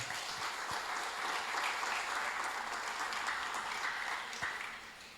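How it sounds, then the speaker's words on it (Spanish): A church congregation claps steadily in a reverberant hall, a continuous even wash of applause with a few sharper individual claps, fading slightly toward the end. "Aplauda al Señor, hermano."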